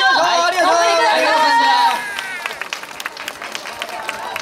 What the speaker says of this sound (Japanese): 皆様に大きな拍手を